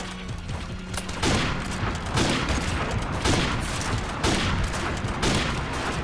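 Gunfire from Call of Duty Modern Warfare 2 in the H2M mod: loud, close bursts of shots come every second or so, each separated by brief gaps.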